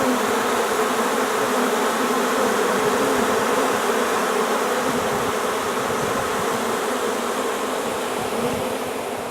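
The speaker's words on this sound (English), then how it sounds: "The bees were coming in and out." Dense, continuous buzzing of many honeybees flying in and out of a screened bee tree during a trap-out, steady and close with no voices.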